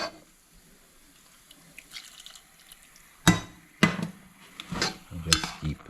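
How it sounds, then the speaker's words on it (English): A milk mixture pours into a pot for a Diwali sweet, with splashing and clinking against the metal that grows in a few bursts after a quiet start. The sound is close, and no one speaks. "we're gonna add the rest of our milk mixture"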